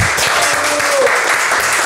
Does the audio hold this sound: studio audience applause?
yes